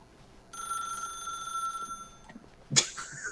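A telephone in The Stanley Parable rings once with a bright, steady electronic trill lasting over a second, followed by a short sharp knock or clatter.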